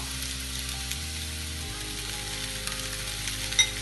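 Onions and green chillies sizzling in a pan as ground mutton goes in for kola urundai: a constant, even sizzle throughout, with a low steady hum underneath and one brief clatter near the end.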